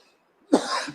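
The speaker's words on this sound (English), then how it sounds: "Badly timed cough." A single short cough at an outdoor amphitheater ribbon-cutting ceremony, sharp and close after a near-silent half second, trailing off into a brief rough breathy tail.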